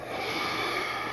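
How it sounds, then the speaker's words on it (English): A sleeping woman in a monitored sleep study gives a single drawn-out snoring snort, a breathy nasal rasp heard close and alone. "Initially, the snoring is off and on."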